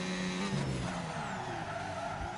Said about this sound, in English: Big lock. You can hear the tires squealing.